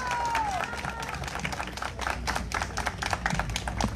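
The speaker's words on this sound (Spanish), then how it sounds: "el señor gobernador, para quien pide un fuerte y caluroso aplauso, Dante Dantioti Castro." Audience applause at a bakery workshop inauguration in Peru, welcoming the regional governor: dense, steady clapping from a crowd, fairly close and loud throughout, with a brief tone at the start.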